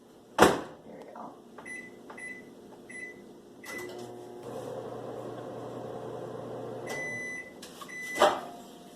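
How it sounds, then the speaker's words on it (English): A microwave oven heats a mug of orange juice for two and a half minutes: a low steady hum runs under faint clatter and clicks, with a sharp knock at the start and another near the end. "now we're going to put it in the microwave"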